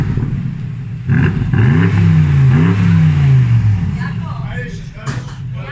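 A BMW M850i xDrive V8 engine revs up, climbing loudly then falling back over a steady idle, with a voice briefly audible around it.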